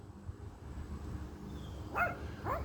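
A dog gives two short, sharp barks close by near the end, against a quiet indoor background.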